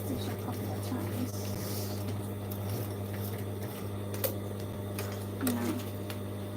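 Sewing machine stitching a bag made from old jeans, a soft steady mechanical hum with faint clicks, fairly quiet and continuous.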